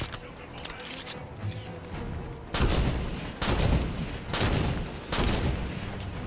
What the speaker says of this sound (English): That knight's got a scatter shot. Watch the spread on that.